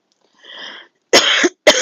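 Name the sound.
cough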